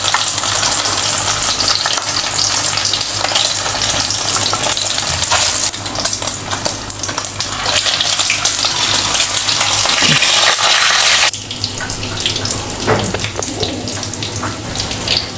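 Egg-dipped shami kebabs fry in a pan of oil, a loud, close, continuous sizzle with crackling spits, which drops slightly in level toward the end as frying continues.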